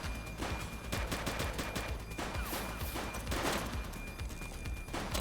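Rapid video game gunfire in The Precinct, a police game, with dense bursts of automatic shots and overlapping fire that stays loud and continuous throughout.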